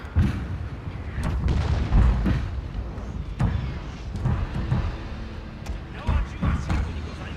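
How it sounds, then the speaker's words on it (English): Booming cannon fire in a video game battle at Fort Wagner thuds repeatedly, some blasts near and others distant, under steady talking. "Their cannons are doing a number on us."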